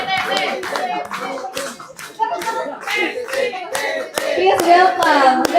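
An audience at a product knowledge training session claps hands in a steady, repeated rhythm, with voices calling out and chattering over the claps throughout.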